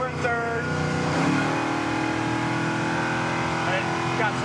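1971 Ford Mach 1 with a 429 Cobra Jet V8 pulling hard in third gear, a loud, steady engine roar with rising pitch heard from inside the car, with a voice speaking over it.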